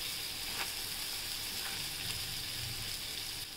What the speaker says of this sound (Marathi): आता आपण ह्याच्यावरनं बटर टाकूया।